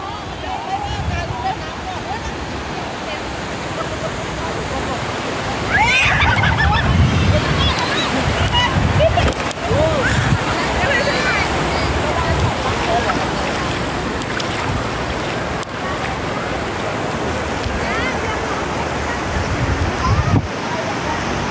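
Sea waves wash steadily onto Chao Lao beach, a broad continuous surf roar throughout, with people talking and shouting over it.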